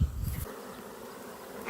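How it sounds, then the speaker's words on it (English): Honeybees freshly shaken from a swarm into a hive fan hard at the top, giving a loud close buzz at first that drops to a steady, fainter hum. "we've got these bees on the top, and they're fanning pretty hard."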